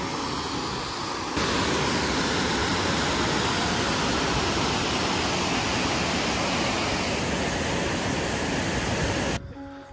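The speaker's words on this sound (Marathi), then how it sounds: "इथून ना बांधावरून ना पाणी ओव्हरफ्लो होत आहे आणि थेट जातं वाशिष्ठी नदीजवळ." Water pours over a dam near Chiplun in Konkan and rushes on toward the Vashishti river, a steady, loud, broadband roar that continues unbroken for the whole stretch before cutting off abruptly at the end.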